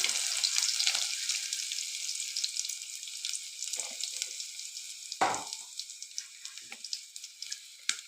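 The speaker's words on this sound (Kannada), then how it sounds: "ಎಣ್ಣೆ ಹಾಕಿದ್ದೀನಿ ಫ್ರೆಂಡ್ ಕರಿಬೇವಿನ ಸೊಪ್ಪು ಬೆಳ್ಳುಳ್ಳಿ" Curry leaves and garlic sizzle and crackle in hot oil for sambar, a steady bright frying hiss with a few louder pops and spatters, heard close with no talk.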